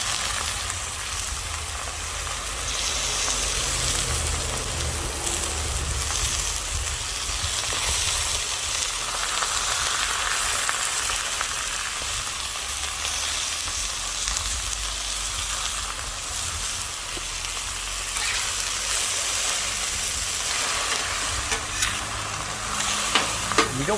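Lemon garlic chicken pieces seasoned with salt, pepper and garlic fry and brown in a pan, giving a loud, continuous crackling sizzle with a few small pops near the end and no talking.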